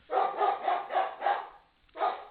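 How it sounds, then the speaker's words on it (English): Dogs bark loudly in a run of five rapid woofs, a short pause, then one more bark, close and harsh with no talk over them. "the dogs are barking so loud you can't hear me"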